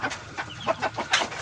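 Two hens in a cage on a small backyard farm give a quick run of short, close clucks in an uneven rhythm.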